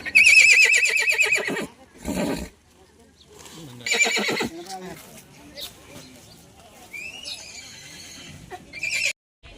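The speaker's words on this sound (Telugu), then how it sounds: "ఇదేనా గుర్రం?" Horses at a tribal weekly village market, a loud close neigh at the start and another whinny mid-clip, with people talking in between and faint market bustle.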